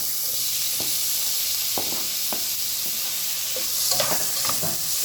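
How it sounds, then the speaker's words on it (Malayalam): Onion and tomato fry in a pan for masala dosa filling, a constant close sizzle and hiss with occasional soft scrapes and taps of a spoon stirring. "അപ്പോൾ അതിലേക്ക് തക്കാളി ചേർക്കും."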